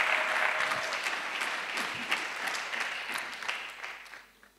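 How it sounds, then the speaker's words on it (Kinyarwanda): A church congregation claps for God during a sermon, a dense, steady round of applause that gradually thins and fades out toward the end. "Mureke dukomere Imana amashyi kuko turi imbere y'umuganga."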